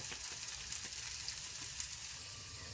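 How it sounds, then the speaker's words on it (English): Potatoes frying in hot oil in a pan, seasoned with a table-blend salt-free seasoning, give a steady, soft sizzle with faint crackles throughout, fairly quiet and even, with no one speaking. "so potatoes into the pan"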